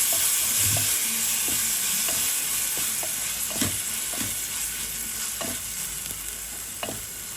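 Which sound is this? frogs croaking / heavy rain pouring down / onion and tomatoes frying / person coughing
onion and tomatoes frying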